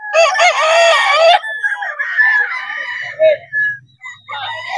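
A Gilmore Hatch gamefowl rooster lets out one loud, close crow, followed by softer scattered calls and a few low clucks from nearby fowl, with no talking.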